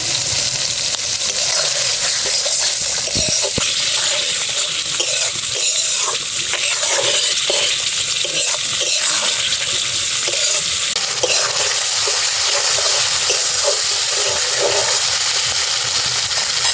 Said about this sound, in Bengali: মশলা থেকে যখন এরকম তেল ছাড়তে শুরু করবে তখন একটু গরম মশলা দিয়ে আবার কষিয়ে নেব।